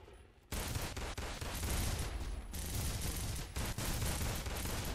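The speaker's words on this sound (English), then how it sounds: "You got one shooting in the distance there." Rapid gunfire from Locust drones in a Garry's Mod game battle, a dense continuous fusillade of automatic shots that starts abruptly after a brief quiet moment and stays loud to the end.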